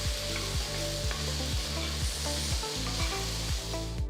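Vegetables for fried rice stir-fry with soy sauce in a hot pan, giving a loud, steady sizzle broken by regular scraping strokes about every half second, with a faint tonal hum running underneath.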